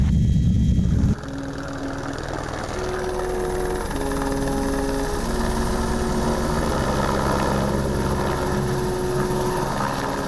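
Helicopter flying in the Swiss Alps near the Arpitetta hut below the Weisshorn, its steady rotor and turbine drone loud and close throughout, with a brief louder burst at the start.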